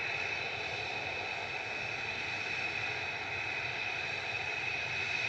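A TUI airliner bound for Girona flies near Manchester Airport with a steady, sustained jet roar and a bright whine on top. The sound holds constant throughout, with no talking.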